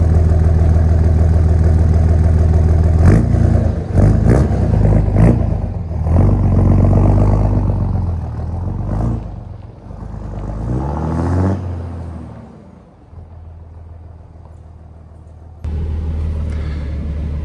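A 2003 Cummins diesel pickup truck rumbles loud and close as it drives slowly, its engine idling and revving in uneven surges, easing off partway through and then picking up again.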